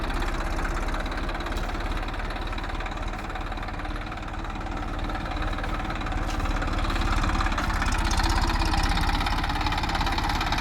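A tractor engine idles on a farm in Kutch, giving a steady, close, even low rumble with a fast mechanical knock that runs without a break for the whole stretch.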